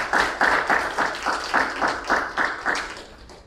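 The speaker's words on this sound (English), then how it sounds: "So please give him a round of applause." An audience gives a speaker a round of applause at an evening talk, a steady patter of many hands clapping in loose rhythmic bursts for a few seconds, fairly close and without voices.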